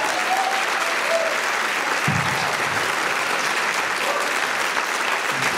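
Steady audience applause fills a room at a first selectman candidates' forum, a sustained even wash of many hands clapping at moderate volume with no voices standing out.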